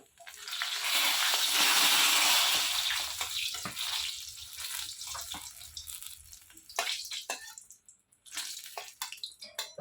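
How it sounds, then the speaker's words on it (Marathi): Sliced eggplant (brinjal) sizzling in hot oil in a pan, a loud steady hiss that swells early and then thins into crackling pops and spits, close up with no voices. "छान असं वांग्याचा एकदम सरसर आवाज यायला लागला बघा"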